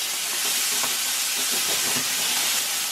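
Quinoa fried rice sautéing in a pan on a stove gives off a steady, close, broadband sizzle with faint occasional scrapes, no talking over it.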